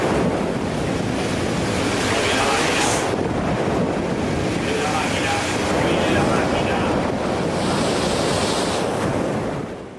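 Heavy seas of 4.5-metre waves and 45-knot winds batter a ship, a loud continuous roar of surf and buffeting wind noise that swells and eases, close and unbroken throughout.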